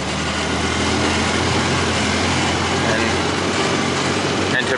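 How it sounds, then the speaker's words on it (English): Steady, loud engine drone from a vehicle driving across a field strip beside a wheat crop, heard up close and continuous, with a voice talking over it. "I'm gonna drive from one side of the strip to the other,"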